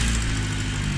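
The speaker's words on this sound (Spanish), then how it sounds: "Vamos a escuchar ahí cómo suena la válvula del turbo" A restored vehicle with a swapped engine runs right after starting, a steady, close, low rumbling idle with even pulsing and no talk over it.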